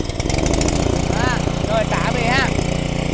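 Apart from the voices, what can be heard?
petrol engine generator pull-started and running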